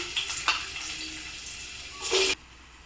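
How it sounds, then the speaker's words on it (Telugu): Gentle sizzle of onions frying in hot oil throughout, with a brief louder burst of hissing near the end before it cuts off. "పైన గిన్నె పెట్టుకొని ఆయిల్ వేసి, ఆయిల్ వేడైనాక ఎర్రగడ్డలు వేసుకుందాం"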